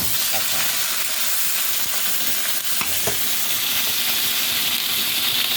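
Beef chunks hitting a hot pot for beef caldereta and sizzling hard, a loud steady frying hiss that fills the whole stretch with faint stirring clatter underneath.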